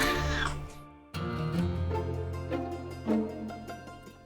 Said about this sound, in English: He wants to chat. It's a boy cat.